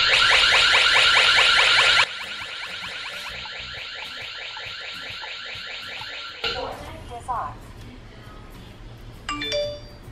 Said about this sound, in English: let's see how loud the alarm would be if it got triggered.